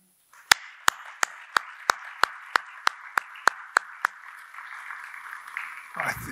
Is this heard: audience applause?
yes